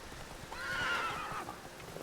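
Roach, a horse in The Witcher 3 video game, whinnies in a single drawn-out call that rises and falls, heard alone over a soft rustling background with no clear hoof beats.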